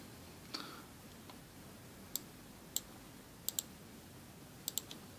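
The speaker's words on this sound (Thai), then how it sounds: "เราก็เอาเมาส์มา คลิกข้างบนนี้ แล้วก็ลบออก" Computer mouse clicks while editing text in a form, sharp, faint, isolated ticks, some in quick pairs, spaced irregularly over a quiet room hum.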